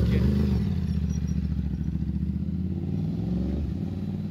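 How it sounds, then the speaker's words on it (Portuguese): A motorcycle engine idles and revs on Avenida Europa during a street car-spotting gathering, a rough, throbbing rumble with steady pulsing, fairly near and loud, fading slightly toward the end with no talk over it. "Tem moto também, galera."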